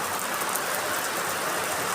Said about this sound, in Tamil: நினச்சி மழை பெஞ்சிக்கிட்டு இருக்குங்க.